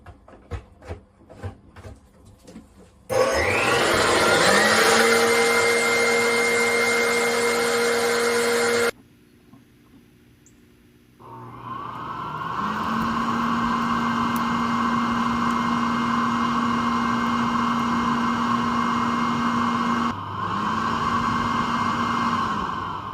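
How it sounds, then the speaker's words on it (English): An electric leaf blower whirs loudly while cleaning out a dryer vent, switching on and off several times with steady high-pitched motor whine and a humming drone between quiet gaps. "leaf blower, not gas, electric."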